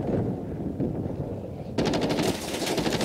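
Automatic gunfire in Call of Duty Warzone Rumble mode, a steady rattle of rapid shots that starts partway through and keeps going over a constant noisy game background, with no talk.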